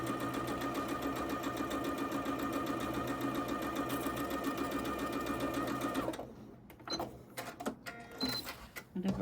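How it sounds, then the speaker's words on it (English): Sewing machine stitching fabric strips for a Christmas-fabric pinwheel quilt top runs in a steady, fast, close mechanical whir for about six seconds, then stops, leaving scattered handling clicks and faint sounds. "So that's all I'm doing, sewing these strips."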